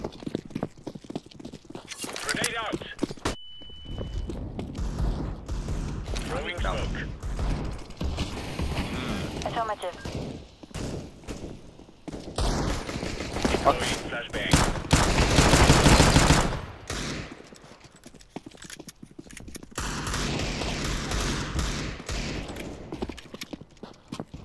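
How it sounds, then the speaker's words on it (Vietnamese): Counter-Strike gunfire on the Anubis map comes in repeated rapid bursts and single shots, with a long sustained volley near the middle and players' voices talking over the action. "Đó là cái súng."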